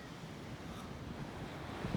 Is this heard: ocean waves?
yes